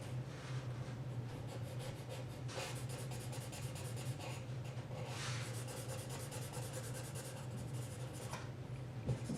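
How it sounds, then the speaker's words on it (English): A medium charcoal pencil scratches and rubs across paper while drawing a cat, a close, steady rasping with bursts of quicker strokes over a low background hum. "now I'm using a medium charcoal pencil"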